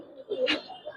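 Soft pigeon coos from Giribaz birds in a loft, low murmuring calls mixed with a faint voice and light handling noise, close and quiet.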